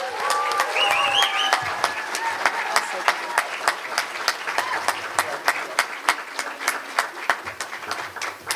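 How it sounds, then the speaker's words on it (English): Applause at an ethnic studies commencement ceremony: a crowd claps in a steady stream of distinct sharp hand claps, with cheers and voices over the start and ongoing chatter beneath. "Let us give a big round of applause for Ari."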